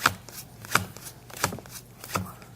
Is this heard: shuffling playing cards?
yes